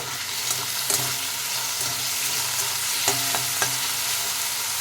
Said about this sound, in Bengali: এবারে ভালো করে একটু ভেজে নেব